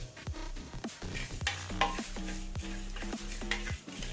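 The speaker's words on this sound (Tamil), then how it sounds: "மணம் வர வரைக்கும் நல்லா வறுத்துக்கிறேன்" Poppy seeds, peppercorns, rice grains and mustard seeds dry-roast in a pan for fish curry, a spoon scraping and stirring in repeated strokes with faint crackling, close and clear with no talking.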